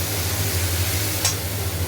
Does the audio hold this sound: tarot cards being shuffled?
no